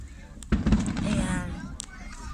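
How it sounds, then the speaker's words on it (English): A Fourth of July firework bursts with a loud boom followed by crackling over a mall parking lot, a voice and someone speaking nearby. "this is 4th of July fireworks"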